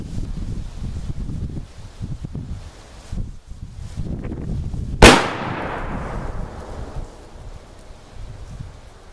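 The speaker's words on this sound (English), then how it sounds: "I'm going to shoot this piece of plywood over here, and we'll see where this thing actually patterns" A blunderbuss smoothbore gun loaded with number 6 shot fires once at a plywood target outdoors: a single sharp, loud blast with a decaying echo, amid wind rustle and handling noise.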